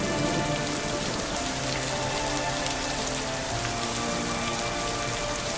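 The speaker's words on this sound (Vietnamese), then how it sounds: "Thôi trời cũng bất mưa rồi" Steady rain falling and pattering on surfaces, a dense continuous hiss with no break and no voices.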